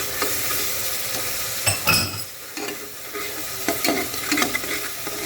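Red chilli masala with salt and a little vinegar or lemon being stirred and fried in a kadai, giving steady close sizzling with scraping spoon strokes and occasional sharper clinks, no voices.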